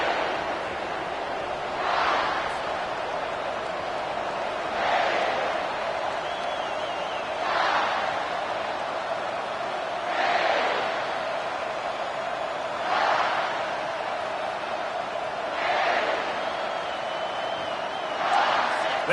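Stadium crowd at a college football video game, SMU against South Carolina at kickoff, keeps up a steady broad roar, with louder cheering swells rising roughly every two and a half seconds.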